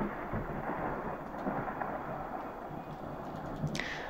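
Thunder ambience in the Wwise game audio tool, a steady low rumbling storm bed with a rain-like hiss, moderately quiet and continuous, with faint brief crackles near the end.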